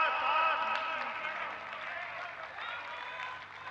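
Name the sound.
audience applause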